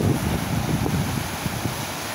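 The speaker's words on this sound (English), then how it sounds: "These waves are breaking out there." Ocean waves breaking offshore on a rising tide, heard as a steady low roar of surf mixed with wind buffeting the microphone, continuous and fairly loud with no voices.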